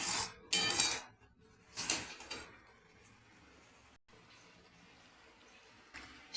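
Mango pickle being stirred in a pan, with a few clattering scrapes and knocks of a utensil against metal early on, then quieter faint shuffling, no speech.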